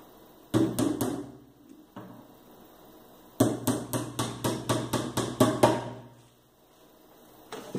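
A hammer drives a thin nail into the MDF panel of a nightstand: a quick burst of three taps, one lone knock, then a longer run of about ten steady, fairly close blows.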